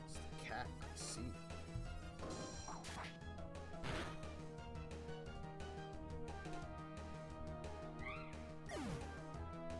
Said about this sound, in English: It's the cat, I see.